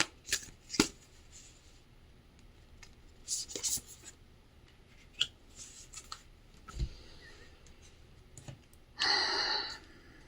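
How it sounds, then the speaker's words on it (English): A deck of oracle cards is shuffled and handled in soft riffles and taps, ending in a longer, louder shuffle burst, close and quiet, with faint breathing and a quiet voice in the background. "I'm going to pull a couple other cards here from this deck."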